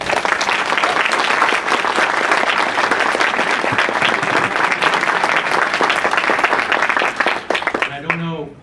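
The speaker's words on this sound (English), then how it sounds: "Let's give them a round of applause." At a graduation luncheon, a room of guests applauds the deans with thick, sustained clapping for around eight seconds, then it drops off abruptly as a voice begins speaking.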